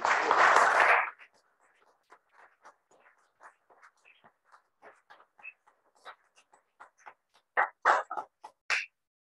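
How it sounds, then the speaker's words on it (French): At a museum cultural evening, a short burst of applause opens, then fades into sparse, faint scattered claps and taps. "Je voudrais d'abord remercier et qu'on applaudisse Geoffroy Dacier."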